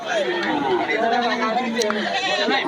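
Goats bleat repeatedly at a riverside goat market on the Jamuna char, wavering cries close by and mixed with a crowd of people chattering.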